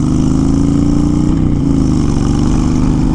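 A loud Honda Fury motorcycle engine accelerates close by, its steady throaty drone holding high revs with a slight dip midway, no voices.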